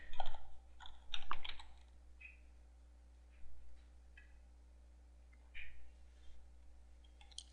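Fingers tap a computer keyboard in short quiet bursts of clicks separated by pauses, recorded close with a low steady hum underneath.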